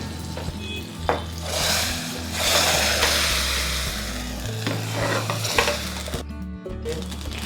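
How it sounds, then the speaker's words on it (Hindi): Hot tadka is poured into Gujarati khatti meethi dal and bursts into a loud, close sizzle, then a spoon stirs with scraping and clinks against the pot while the frying hiss continues. "मेरा तड़का रेडी हो गया है। अभी मैं दाल में डाल देती हूँ।"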